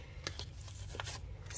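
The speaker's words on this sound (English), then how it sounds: "so I'm going to shuffle and then I'll pull from the top for each one" A deck of oracle cards is shuffled close up, with quick papery riffles and soft card flicks in short bursts, faint and with no talking.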